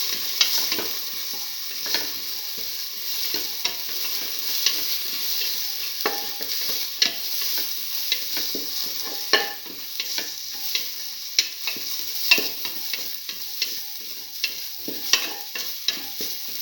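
Shallots and fennel seeds sautéing in a pan, a continuous soft sizzle punctuated by frequent scraping stirs and spoon knocks at an uneven rhythm, close and moderately loud with no talking.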